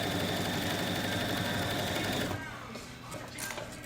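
Sewing machine stitching a stabilized Kyoto bag, a close, steady rapid mechanical whir with dense needle clatter for over two seconds, then stopping, leaving quieter handling noise and rustle.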